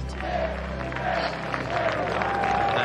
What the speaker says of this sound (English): the crowd serenades Roy Kent with a song that's echoed through the Premier League for more than a decade